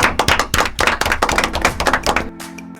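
Applause on a Spanish-language show: a small group clapping in rapid, dense, close bursts that taper off at the end.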